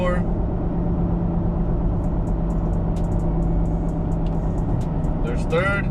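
A 2017 Toyota Tacoma engine droning steadily from inside the cab while downshifting, a continuous low rumble under a man's speech.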